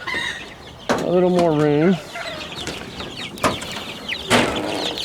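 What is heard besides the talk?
chickens clucking in a chick pen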